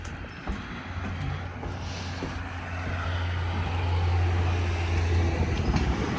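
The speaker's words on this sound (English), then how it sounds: "The wind is blowing." Strong wind blowing across outdoor ceiling fans, one with a bent, sagging blade, a loud steady rushing roar with a low humming drone that builds and holds.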